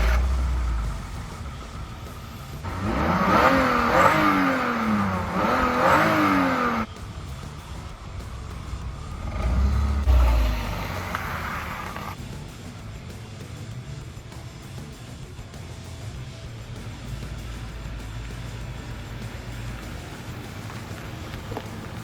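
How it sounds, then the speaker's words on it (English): A BMW 325Ci convertible engine starting and running, with a short cranking burst followed by a steady idle that fades into a quieter low rumble, heard nearby outdoors. "I have to go ahead and start the car"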